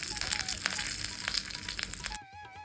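A hot tempering with curry leaves and asafoetida is poured into snake gourd seed chutney, giving a close crackling sizzle that stops abruptly near the end.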